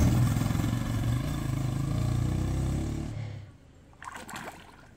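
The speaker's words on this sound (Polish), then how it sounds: "Chłopaki tu prześmigną motorkiem." A motorcycle rides past on a dirt track near water in Guinea, its engine loud and close for about three seconds, then fading quickly as it moves away, leaving faint background sound.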